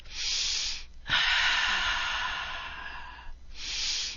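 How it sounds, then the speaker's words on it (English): A slow, deep breath drawn and released close by in a calm guided healing session: soft airy rushes with one long sustained breath in the middle and shorter ones at either end, no talking. "Now take that deep, deep, deep, deep, deep lymphatic breath"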